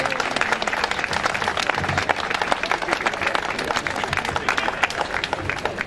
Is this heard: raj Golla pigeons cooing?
no